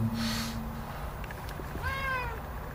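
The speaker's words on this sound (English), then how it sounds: "That's my cat" A cat meows once, a clear rising-falling call near the end, heard close by over a steady outdoor background hum near a pond at dusk.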